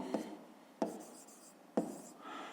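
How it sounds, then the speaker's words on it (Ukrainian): A pen scratches across paper while a math expression is written out, three quick strokes each starting with a soft tap, close and quiet. "Ну що ж, записуємо тоді то."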